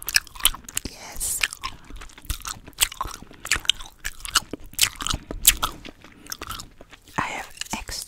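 Sour pink watermelon gum being chewed up close, with rapid wet smacks, crunches and bites repeating irregularly throughout in a soft, intimate setting.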